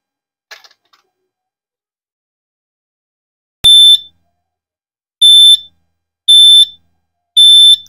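A CrossFit box interval timer sounds its original stock beep, very shrill and piercing. After a faint click or two, four loud, evenly spaced beeps arrive alone, the first a bit longer than the others.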